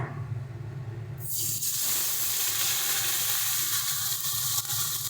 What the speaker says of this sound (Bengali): এবারে আমরা এই মাছ ভাজার তেলের মধ্যেই প্রথমে দিয়ে দেব পেঁয়াজ বাটা